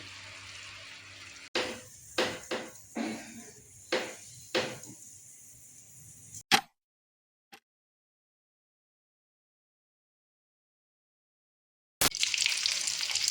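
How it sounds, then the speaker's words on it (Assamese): Fish goes into a simmering ridge gourd fish curry in a pan, setting off a series of sharp, close sizzling bursts that die away into near silence before kitchen noise returns. "এতিয়া ইয়াতে মই মাছ দি দিম"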